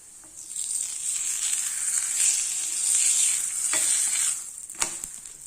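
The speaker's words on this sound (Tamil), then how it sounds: "இப்படியே ரெண்டு பக்கமும் மாற்றி மாற்றி நம்ம வேக வச்சு எடுத்துடலாம்" A carrot-stuffed chapati cooks on a hot tawa with a continuous bright hiss of sizzling, broken by a couple of soft taps near the end.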